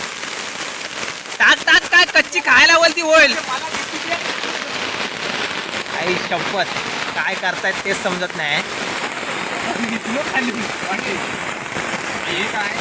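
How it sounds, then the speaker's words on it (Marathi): Heavy monsoon rain in the hills roars steadily throughout, a dense hiss close by, while people talk over it. "खूपच पावसाचा जोर वाढला आहे"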